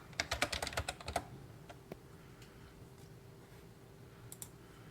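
Quick bursts of typing on a computer keyboard, a flurry of close, crisp key clicks at the start followed by a few scattered taps against a quiet room, no voices.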